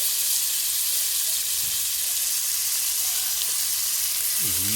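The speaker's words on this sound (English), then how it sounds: "Mr. Chef's pulling out their mushrooms, steaks being seared." Steaks sear in a hot pan with a loud, continuous sizzle and hiss close up, and a voice briefly sounds over it near the end.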